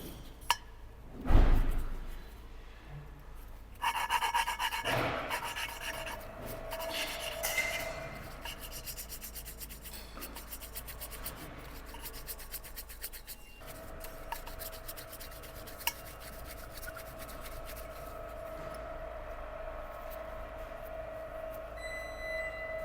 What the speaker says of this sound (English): That seat's starting to grind in.